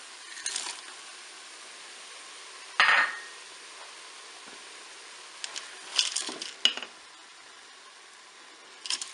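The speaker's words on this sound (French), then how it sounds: "Je vais ajouter maintenant l'ail coupé en morceaux. Et puis les crevettes." Chopped garlic and shrimp go into a hot Cookeo multicooker pot for paella, giving a few clattering knocks and brief sizzling bursts spaced out over a steady low background hiss.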